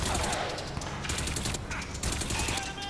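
K-Volt submachine gun in Crysis 3 fires in rapid bursts, dense automatic gunfire crackling loudly and continuously with brief gaps, a voice talking underneath.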